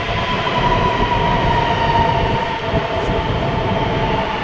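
A Rapid Rail train rolls into a station platform in Uttar Pradesh with a loud, steady rumble and whirring hum, faint wheel squeal and rail noise filling the space without break.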